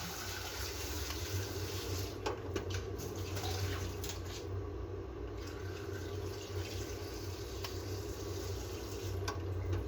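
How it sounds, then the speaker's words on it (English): Tap water runs steadily over potatoes being washed in a home kitchen sink, a constant broadband rush with small splashing variations, no speech. "I'm just gonna wash those potatoes."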